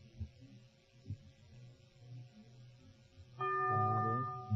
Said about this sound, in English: The bell is tolled.